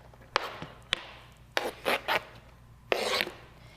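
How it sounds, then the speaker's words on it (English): A knife spine scraping chopped onion across a cutting board: a few short, dry rasping strokes with sharp taps between them, close and clear, with no talking. "you should always use the back of your knife as you're scraping food off"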